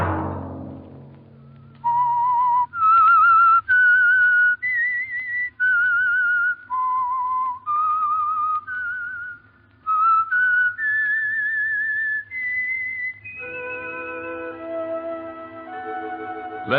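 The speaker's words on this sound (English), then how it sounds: "Let that whistle be your signal" A lone whistler performs the eerie theme of the CBS radio drama The Whistler, a clear melodic line of sustained notes with short pauses, followed by an orchestral chord swelling under the final phrase.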